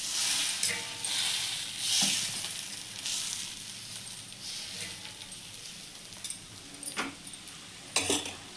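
Dosa batter sizzles on a hot pan in a soft continuous hiss, with occasional sharp scrapes and clinks of a ladle spreading it, close and fairly quiet.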